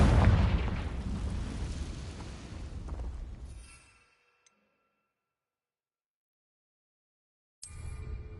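A Confringo fire spell goes off in Hogwarts Legacy: a loud, roaring explosive blast with a rumbling tail that fades out over about four seconds, followed by silence and then a burst of renewed rumble near the end.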